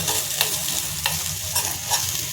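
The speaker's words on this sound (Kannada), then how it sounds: "ನೋಡಿ ಫ್ರೆಂಡ್ಸ್ ಈ ರೀತಿ ಫ್ರೈ ಆಗ್ತಾ ಇರುತ್ತೆ ಇದು ಸ್ವಲ್ಪ ಇದು ಚೆನ್ನಾಗಿ ಬಾಡಿಸ್ಕೋಬೇಕು ಈರುಳ್ಳಿ ಆಗಲಿ ಬೆಳ್ಳುಳ್ಳಿ ಆಗಲಿ" Onion and garlic fry in a pan for a South Indian sambar, a steady close sizzle broken by a few soft stirring scrapes, with no voices.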